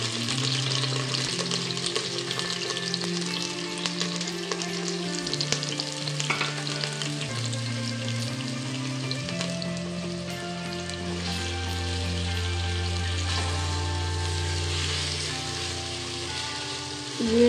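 Sliced onions browning in about a third of a cup of oil in a pot, a steady broadband sizzle with occasional stirring, close and continuous throughout, while background music plays underneath.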